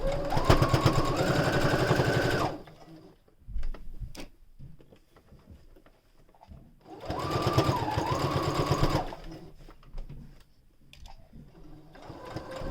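Sewing machine stitching a fabric face mask for beginners, two loud bursts of steady rapid whirring stitches with a pause of small handling clicks between them.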